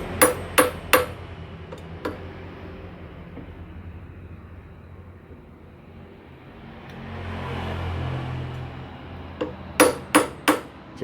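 A hammer tapping an impact screwdriver fitted with a PH2 bit on a screw of a motorcycle brake master cylinder: a few sharp metallic strikes at the start, one more, a steady low hum, then a quick run of four hits at the end.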